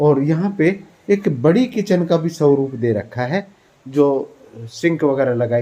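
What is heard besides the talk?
No everyday noise stands out behind the speech.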